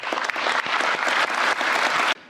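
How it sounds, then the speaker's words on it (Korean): A roomful of officials at a government ministry briefing breaks into dense, steady applause that holds for about two seconds and then cuts off abruptly. "박수로 마치겠습니다"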